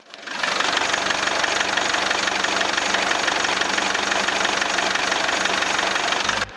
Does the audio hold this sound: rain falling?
no